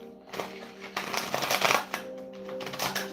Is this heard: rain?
no